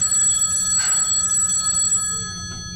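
An old-style telephone bell rings steadily and insistently up close, its bright tones holding for about two seconds before fading slightly near the end.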